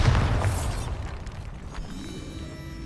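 The Bombarda spell detonates in Hogwarts Legacy with a loud, deep blast that rolls off into a rumbling, crackling decay, close and alone.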